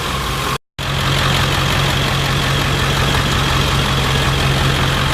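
A car engine idles steadily just after starting, a constant mid-pitched hum with a faint knocking edge, heard close and alone after a brief cut at the start.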